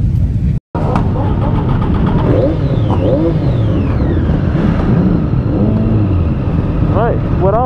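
A motorcycle engine runs steadily during the Isle of Man TT Legacy Lap, a loud continuous drone with shifting pitch, and voices are heard over it.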